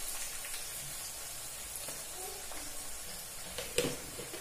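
Curry leaves and sambar powder sizzle and fry in a pan, a steady soft hiss close by with faint stirring clinks and a small clatter near the end.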